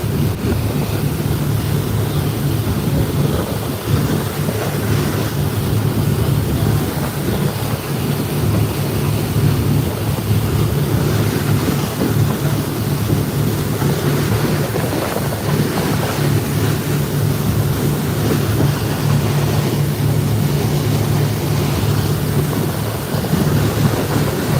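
Speed boat cruising off Komodo island: steady low engine drone and rushing water with heavy wind buffeting the microphone throughout, no pauses.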